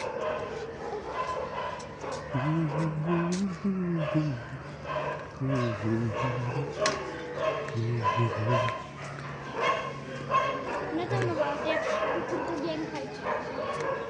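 Several dogs bark and yip in bursts near a temple area between Guhyeshwari and Pashupati, some whimpering, with a person talking over them.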